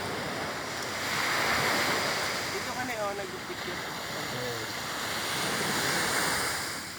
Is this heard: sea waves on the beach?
yes